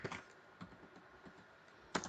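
A handful of soft, scattered keystrokes on a computer keyboard, quiet and close, with pauses between taps and no talking.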